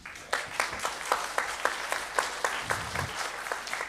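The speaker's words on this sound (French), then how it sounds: "On l'encourage, on l'applaudit." Audience applause for a speaker, with rhythmic, evenly spaced clapping that pulses in unison at a brisk beat from a modest crowd nearby.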